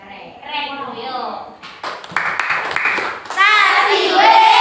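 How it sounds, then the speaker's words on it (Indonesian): Children in a primary school classroom perform a rhythmic clapping cheer routine, quick bursts of claps mixed with their chanted voices, which rise louder toward the end. "kasih tepuk keren dulu yuk."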